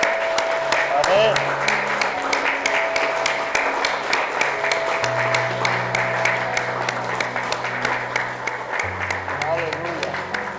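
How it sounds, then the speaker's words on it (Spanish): Church congregation applauding during a service, steady sustained clapping from a crowd with sustained keyboard tones playing underneath, lasting throughout at moderate loudness. "Dele ese aplauso al Señor."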